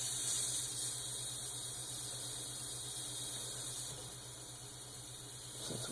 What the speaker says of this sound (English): And I'm also going to drain the water that's in it as well.